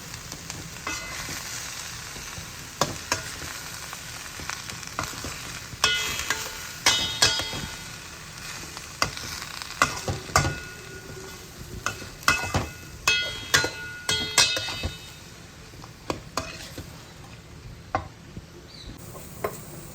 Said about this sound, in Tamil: போட்டுட்டு நம்ம கிண்டணும்